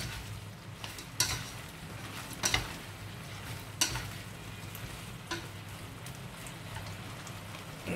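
Continuous sizzling and crackling of shrimp frying in a pan, with a few sharp clinks of a utensil stirring at intervals, close by.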